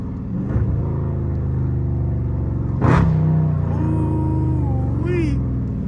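Dodge Scat Pack engine rumbles low in traffic, with a sharp rev burst near the three-second mark before settling back to a deep idle; voices talk over it close by.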